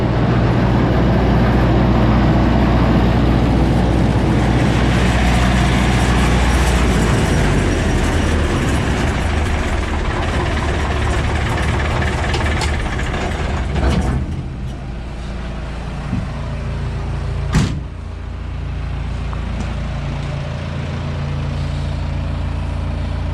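David Brown 995 tractor engine running steadily while chopping beet, a loud, continuous low rumble with mechanical clatter that eases somewhat in the last part, heard close with no talk.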